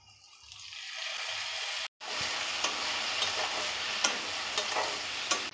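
Tomatoes frying in a pan for tomato bath, with a steady close sizzle and a brief break followed by scraping stir strokes and light clicks from the utensil against the pan.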